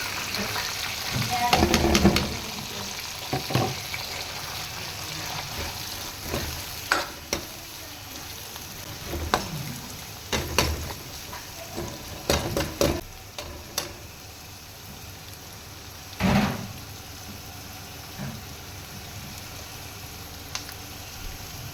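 Oil sizzles steadily as onions fry in a pan, with occasional louder bursts and stirring clatter; no one speaks.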